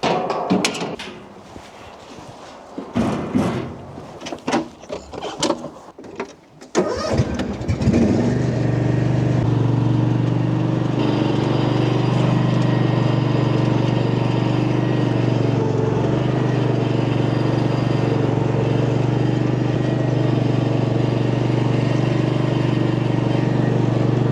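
An Etesia Attila mower clatters and bumps through several loud handling knocks, then its engine starts and settles into a steady, close, continuous drone while cutting a rough, overgrown field.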